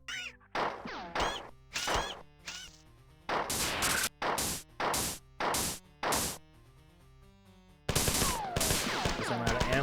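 Video-game gunfire rings out in a string of sharp, separate shots with short gaps between them, ending in a longer dense burst, moderately loud with no talking.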